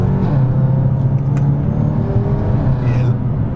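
A broken BMW M5's V8 bi-turbo engine roars loudly, its pitch climbing as it accelerates, a steady throaty drone heard up close from inside.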